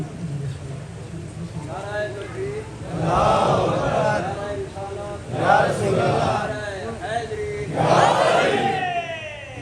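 A large crowd at a Muharram majlis gathering shouts back in unison in repeated bursts, loud surging chants rising over a preacher's amplified voice.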